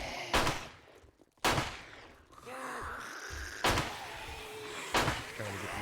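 Several sharp 9mm pistol shots in the zombie survival game 7 Days to Die ring out at irregular intervals, loud and close, with game ambience and brief vocal sounds between them.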